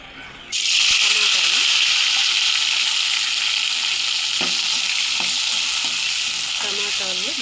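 Dried red chillies and cumin fry in hot oil in a pan, producing a loud, continuous sizzle throughout, with occasional soft clinks of stirring underneath.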